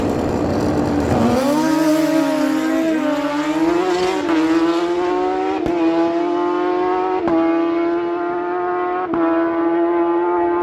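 Turbocharged Suzuki GSX-R drag bikes, a 2005 and a 2006 GSX-R 1000, launch at a dragstrip and roar away; a loud, rising engine whine climbs through several gear changes, then fades into the distance, with no talk.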